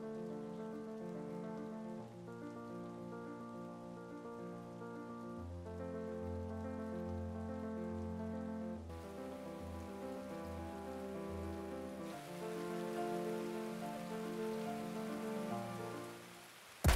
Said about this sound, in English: But sadly, it's starting to rain.